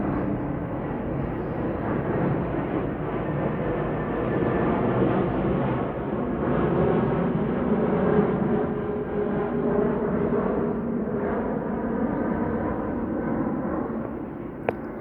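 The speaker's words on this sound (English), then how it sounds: "there's an airplane just flying above me" A continuous low roar of an airplane passing overhead, rumbling steadily for the whole stretch with a slight swell in the middle, no voices.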